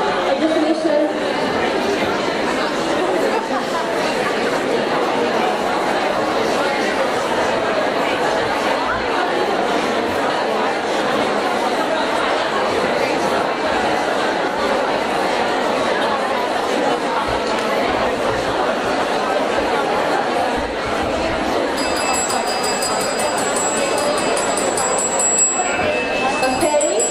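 Conference audience at an English-teaching event chatting in pairs, a dense steady murmur of many overlapping voices filling the room; a faint bell-like tone rings near the end.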